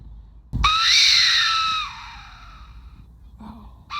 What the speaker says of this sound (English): it has that hole so that it can whistle. And it's a very loud screeching sound.